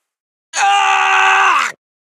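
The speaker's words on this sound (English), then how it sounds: "He sprang awake at a sort of scream." A man's drawn-out scream of pain in an audio drama, one loud, strained vocal cry lasting about a second with no other sounds around it.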